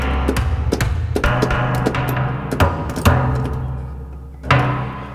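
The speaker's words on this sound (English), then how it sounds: "this is an oil drum, which sounds like this" An oil drum is struck in a percussion part, its big ringy metallic hits landing in a loose syncopated pattern, close and fairly loud with resonant decays.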